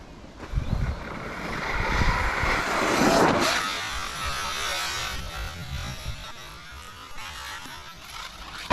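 An Arrma RC car, fitted with a hose clamp mod, whines and buzzes as it speeds toward a long jump outdoors, its motor surging around the middle and then staying steady under wind noise.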